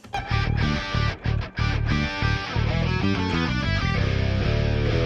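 Bass and electric guitars from an album track play together in contrary motion, the guitars rising while the bass descends, in a loud, dense band passage with brief dips in between.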